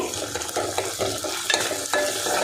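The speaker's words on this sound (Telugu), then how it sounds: "ఇప్పుడు అల్లం పేస్ట్ అయితే వేస్తున్నా ఇది కొంచెం ఫ్రై అవ్వనివ్వాలి" Ginger paste frying with onions in a pan for a bitter gourd stew sizzles steadily while a utensil stirs it with repeated scraping, close and fairly loud.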